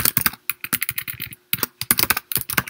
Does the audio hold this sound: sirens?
no